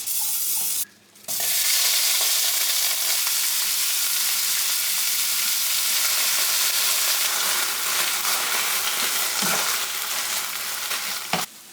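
Chicken tender pieces hit a hot pan after a brief pause, then a loud, continuous close sizzle runs on steadily with occasional faint stirring sounds until a short break at the end.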